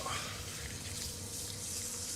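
Hot water runs from an outdoor shower in the wind, a steady, close hiss of flowing water with no talking over it.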